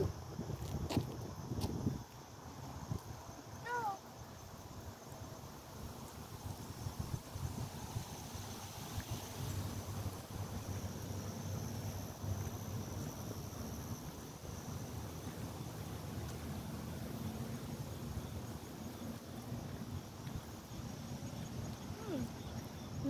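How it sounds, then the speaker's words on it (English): Steady gusty wind roaring outdoors at a park after a hurricane, buffeting the microphone with low rumbling noise that fluctuates throughout. "It's so windy."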